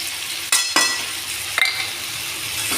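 Masala paste with salt and turmeric sizzles steadily in a hot pan, broken by a few sharp clinks of a spatula or spoon against the metal as it is stirred.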